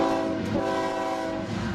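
A freight train on a CSX rail line, its horn sounding as a loud, sustained, harmonically rich blare over the rumble of the passing cars.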